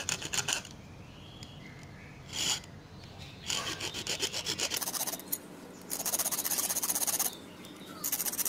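A brass airsoft inner barrel being cut by hand with a simple tool, several bursts of rasping, scraping strokes separated by pauses, close and moderately loud, with no talk.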